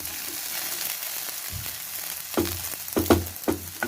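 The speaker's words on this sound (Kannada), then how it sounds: "ಹೀಗೆ ಹದವಾಗಿ ಹುರ್ಕೊಳ್ತೀನಿ. ನೋಡಿ, ಬೆಂಡೆಕಾಯಿ ಹುರಿಯೋದೇ ಒಂದು ಹದ." Okra sizzles steadily while frying in a pan for a dry South Indian palya, with a constant hiss and a few sharper stirring clatters near the end.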